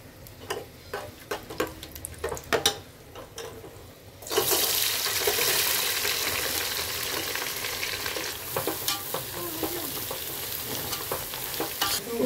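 Dried chillies and bay leaf in oil give a few scrapes and clicks, then onions hit the pan with a sudden loud sizzle that stays steady and close, with occasional stirring strokes.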